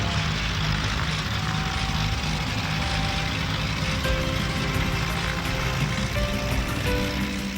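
A private propeller airplane drones loudly and continuously nearby, its steady engine roar and buzzing tones holding level throughout with no speech.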